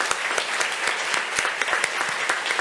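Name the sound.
audience applause at a forum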